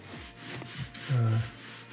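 Hand sanding of an interior wall during renovation: steady, close rubbing strokes with a scratchy hiss, repeating in a loose rhythm and briefly louder near the middle, with no talking.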